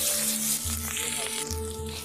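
Onion and garlic paste sizzles steadily in hot oil for a Bengali fish curry, a bright continuous frying hiss with a low steady hum underneath.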